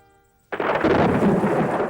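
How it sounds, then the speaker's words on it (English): Cartoon thunderstorm: a sudden loud crack of thunder breaks in after a near-silent opening, then rolls on as a dense, sustained rumble with a rain-like wash beneath it. "A storm."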